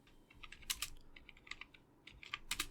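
Python code is typed on a computer keyboard in quick, irregular bursts of crisp keystrokes, close by and fairly quiet.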